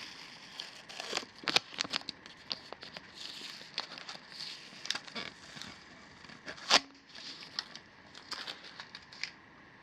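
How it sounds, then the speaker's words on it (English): Tape peels off a shop vacuum hose in a series of quiet, crackly ripping bursts, close up and uneven in rhythm. "Now I'll pull the tape off."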